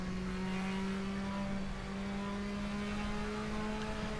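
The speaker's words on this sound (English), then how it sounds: "The turbo on the wastegate, or dump valve in this case, kicking in." A turbocharged race car in RaceRoom Racing Experience drones at high revs with a steady, whining engine tone that dips briefly midway before climbing again; no distinct dump-valve hiss stands out.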